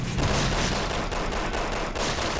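Sustained rapid gunfire from the video game Resident Evil 6 forms a dense, continuous barrage of shots, loud and close throughout.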